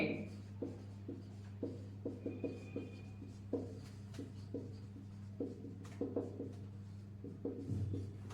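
Chalk tapping and scratching on a classroom board during a physics lesson, a run of short strokes and taps in uneven rhythm, close but faint over a steady low hum.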